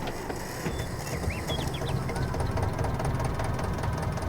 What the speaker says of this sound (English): I think that is one of the best sounding engines in the whole of Farming Simulator